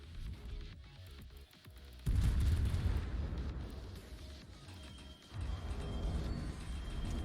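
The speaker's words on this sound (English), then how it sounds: "The Montana is firing HE at you." Montana battleship firing HE shells in World of Warships: deep, rumbling naval gun blasts that hit suddenly and roll on for several seconds, a second heavy boom following, over low mechanical game ambience.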